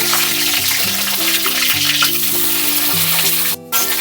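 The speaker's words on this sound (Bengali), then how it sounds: "বেগুনগুলো এখন আমি লাল করে ভেজে নেব" Eggplant pieces fry in hot oil for a vegetarian eggplant-and-milk curry, giving a steady, dense sizzle over soft background music, with a brief dropout near the end.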